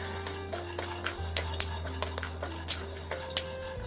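Coriander seeds dry roasting with peanuts and coconut pieces in a pan give faint scraping stirs and light clinks against a soft background hum, with no talking.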